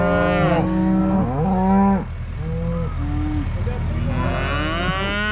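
Cattle low repeatedly during a cattle drive home for winter, a series of loud, close, drawn-out moos from several cows overlapping one another, with ambient outdoor noise beneath.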